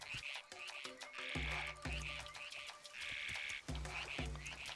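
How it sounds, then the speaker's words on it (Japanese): A frog-like monster in a Zelda video game sings to make rain. It repeats bleating, croaking calls in a steady rhythm, alternating with brighter chirpy notes, loud and up close over game background sound. "カエルのような魔物、雨を降らせるために歌を歌う"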